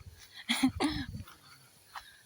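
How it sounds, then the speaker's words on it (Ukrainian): A dog in a home vegetable garden gives two quick, close barks, followed by a fainter yelp moments later. "на мене чомусь гавкає"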